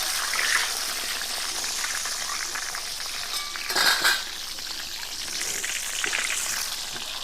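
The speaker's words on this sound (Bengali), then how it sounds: "তেল গরম হয়ে গেছে এবার আমি বেগুনগুলো ভেজে নেব" Whole brinjals (eggplants) frying in hot oil for a gram-flour fritter dish give a steady close sizzle with brief louder crackling bursts, alone without talk.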